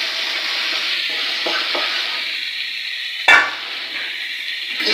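Wild taakla vegetable leaves frying in hot oil give a steady, close sizzle while being stirred, with one sharp utensil knock partway through.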